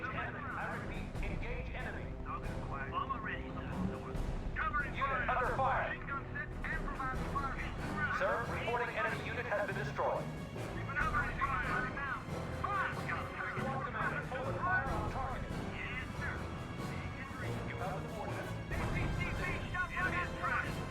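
Heavy gunfire and artillery in the WWII strategy game RUSE, a continuous din of thuds, crashes and rattling fire under frequent radio-style voice chatter.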